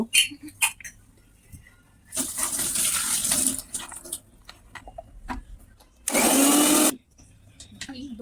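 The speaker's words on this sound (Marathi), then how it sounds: "लसूण, खोबरं आणि कांदा हे आता मी मिक्सरमध्ये फिरवून घेणार आहे." A kitchen mixer grinder blends garlic, roasted coconut and onion in two loud whirring bursts, one longer and one short. Quiet handling noises sit between the bursts.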